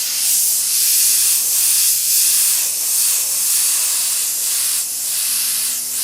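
Spray paint hisses from a can onto a beveled edge in a series of seven or eight short, loud, close bursts separated by brief pauses, with no one speaking.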